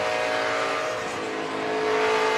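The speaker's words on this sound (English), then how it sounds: "He breathed the gas, tires squall a little bit." NASCAR truck engine in a 2014 Camping World Truck Series race at Pocono, heard from inside the cab: a loud, steady roaring drone with faint tire squall mixed in, no talk.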